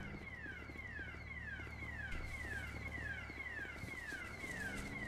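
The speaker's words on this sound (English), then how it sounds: "Wait, has he set the alarm off?" A car alarm in the video game GTA whoops in a repeating rising-and-falling siren pattern, loud and continuous over a busy background.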